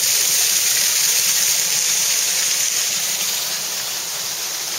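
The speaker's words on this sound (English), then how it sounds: "And of course, I'm chilling here next to my homeboy, the waterfall." A waterfall pours steadily nearby, a loud, continuous broadband rush of falling water that fills the whole clip with no voices.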